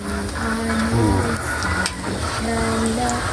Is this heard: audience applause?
no